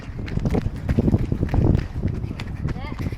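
A person runs while recording on a tiny Insta360 GO 3 action camera with wind-reduction mode on, producing thudding footsteps and buffeting wind noise beneath continuous close talking.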